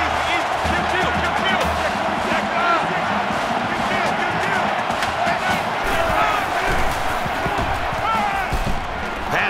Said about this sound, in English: The crowd at this stadium, always a factor in a football game.